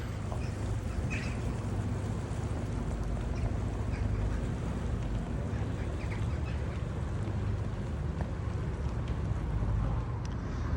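A boat arriving at Bowness Bay on Windermere, its steady engine rumble and water noise filling the scene continuously, with occasional duck quacks and bird calls nearby.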